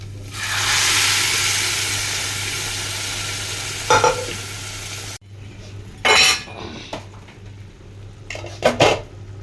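Cooked beans being stirred into a curry in a metal pan, with a steady sizzle and a few sharp spoon scrapes and clinks against the pan, the frying hiss dropping away partway through.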